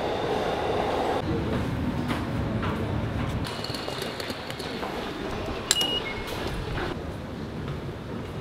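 Shinkansen bullet train running between Osaka and Tokyo, a steady onboard rumble with low rolling noise throughout, brief higher clicks and a sharp tick near the middle, no talk.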